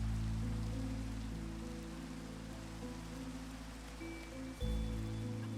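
Rain in the Minecraft video game falls as a soft, steady hiss, faint and continuous, with quiet tonal hums running underneath and no voices.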